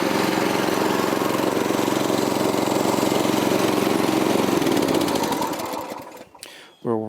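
A garden tiller's small engine runs steadily with a fast, even buzzing chug, then winds down and cuts out near the end, followed by a brief voice.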